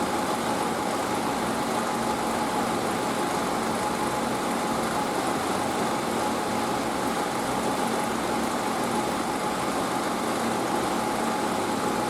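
A car engine idles steadily with its lights switched on during an alternator check, a constant even hum with no change in pitch from start to finish.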